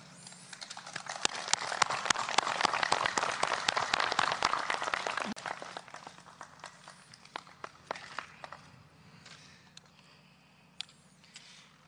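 Applause at Panmunjom after the joint inter-Korean declaration: many hands clapping together, loud and dense for about five seconds, then thinning into sparse, scattered claps that trail off into near quiet.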